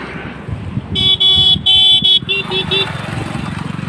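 A car engine keeps running while the car turns. A close, steady engine rumble sits under a quick series of loud, tonal horn-like beeps in the middle, then settles back to a plain idle.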